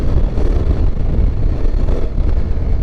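Honda X-ADV scooter ridden off-road in wet conditions, its engine a low continuous drone buffeted by heavy wind noise on the microphone, steady and fairly loud with no speech.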